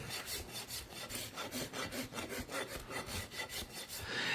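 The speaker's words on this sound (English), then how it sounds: "So we're going to flatten that hoof out." A horse hoof being trimmed and flattened with a rasp, giving steady rhythmic scraping strokes, about two per second, close and fairly loud with no talk.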